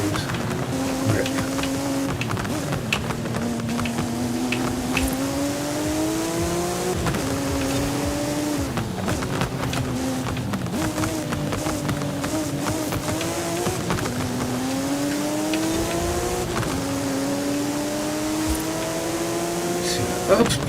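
A race car engine in Forza Horizon 5 rising and falling in pitch as the throttle is feathered, with repeated climbs through the revs. A voice talks over it at times.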